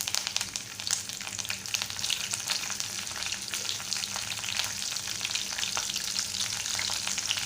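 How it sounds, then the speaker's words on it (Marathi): Mustard seeds, curry leaves and green chillies crackle and sizzle steadily in hot oil for poha, a dense continuous frying hiss with scattered pops and a faint clatter of stirring, no voices. "आता आपण मोहरी घालणार आहोत कढीपत्त्याची पानं घालणार आहोत मिरच्या घालणार आहोत"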